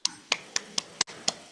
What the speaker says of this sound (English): Yeah, that's one more round of applause.